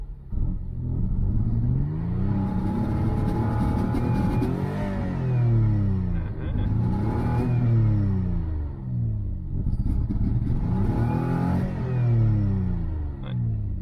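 A Citroën XM V6 engine held at full throttle against its 4000 rpm limiter, a loud mid-pitched drone that repeatedly swells and dips in three long waves as the governor cuts in, heard close without any talk.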